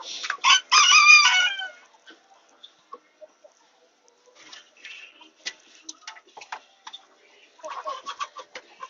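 Backyard chickens cluck and a rooster crows loudly at the start, followed by scattered pecking ticks and soft clucks, with a burst of clucking near the end.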